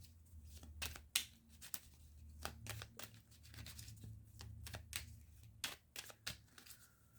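Close, quiet rustle and snap of a deck of Making Magic oracle cards being handled and shuffled, a quick irregular run of crisp flicks and riffles with no talking.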